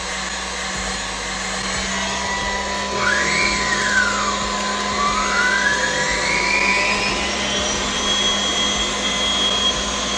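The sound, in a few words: stand mixer running at top speed 10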